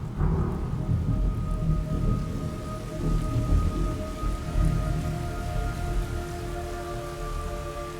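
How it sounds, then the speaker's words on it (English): Steady heavy rain in the video game Metal Gear Solid Snake Eater hisses and patters over low rumbling, with faint tonal hums lingering in the background. "It's raining blood."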